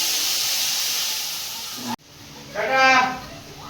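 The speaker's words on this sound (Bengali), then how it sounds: "মশলাটা কষিয়ে নিয়েছি, জল দিয়ে দেবো।" Water poured into a pan of sizzling fried spice paste with cumin powder, made for a tilapia fish curry: a steady loud hiss, a sharp break, then a louder surging sizzle, close up with no talk.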